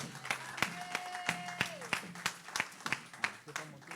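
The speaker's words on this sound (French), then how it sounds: "sous vos acclamations, le frère Stan va venir." A church congregation breaks into applause to welcome a speaker, with irregular, fairly faint sharp claps that thin out over a few seconds, and a voice talking lightly underneath.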